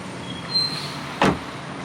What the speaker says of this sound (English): let's close this rear door here